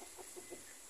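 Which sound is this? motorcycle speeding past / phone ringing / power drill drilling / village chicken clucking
village chicken clucking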